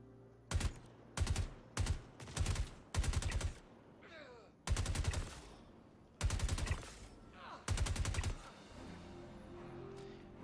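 Star Citizen gunfire in rapid automatic bursts, about eight sharp volleys spaced a second or so apart, close and punchy, with faint background noise between them.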